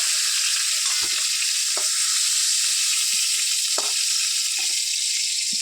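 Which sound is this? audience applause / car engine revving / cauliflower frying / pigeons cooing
cauliflower frying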